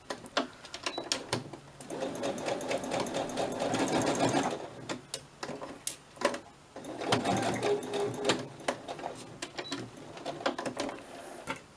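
A domestic sewing machine stitches scrap fabric for a butterfly in two long whirring runs separated by a brief pause, with scattered clicks and rustling of handling at moderate volume.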